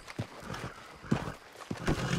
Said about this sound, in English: Just grab one of these local horses that's in the street.